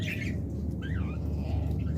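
Lovebirds for sale give a few harsh squawks and chirps against a steady, noisy background hum, fairly close and unaccompanied by talk.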